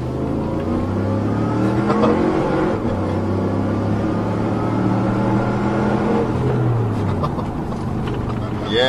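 A supercharged Subaru STI engine revs hard during a dyno pull, a loud sustained drone with climbing pitch and a dip near the end, close and with a voice heard faintly under it.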